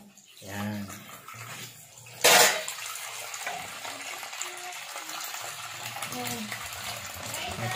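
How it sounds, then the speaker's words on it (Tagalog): Water splashes and trickles into a container at a sink, with a brief loud gush, clinks and faint background voices. "lagyan natin 'to ng tubig sa ating lababo"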